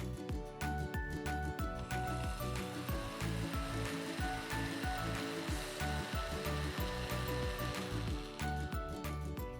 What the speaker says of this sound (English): Let's whisk all these ingredients together first.